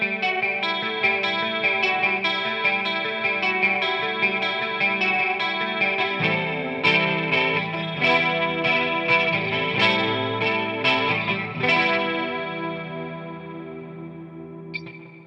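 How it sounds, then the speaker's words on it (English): An electric guitar runs through a chorus pedal into a reverb pedal, playing shimmering, warbling chords and single notes for about fifteen seconds, then a final chord rings out and fades into a reverb tail. No voices. "Let's hear this chorus going straight into the countercurrent."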